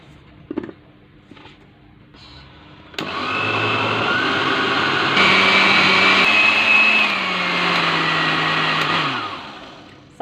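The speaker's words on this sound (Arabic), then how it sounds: "غادي ناخذ الكاس ديال الخلط الكهربائي، غادي ندير فيه هذا الخليط" Electric blender mixing baghrir batter in its jar, starting with a few small clicks and knocks, then a loud steady motor whir for about six seconds before winding down with a falling pitch.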